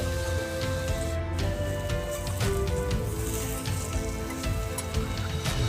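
Vegetables and potatoes frying with turmeric in a pan over a low flame, a steady, even sizzle with faint crackles and no talk.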